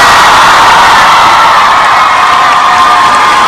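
A large concert crowd cheers and applauds as a singer comes on stage at a live show, loud, continuous roaring with whoops and screams throughout.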